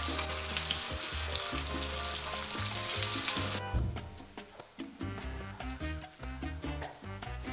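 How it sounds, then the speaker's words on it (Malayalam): Beef pieces coated in masala sizzle and crackle steadily in hot oil for a Kerala-style dry fry, a loud dense hiss at first that then drops to quieter bubbling with a few clinks. "നല്ല കണക്ക് മസാല എല്ലാം പിടിച്ചിട്ട് നമുക്കെടുത്ത് ഫ്രൈ അടിക്കാം"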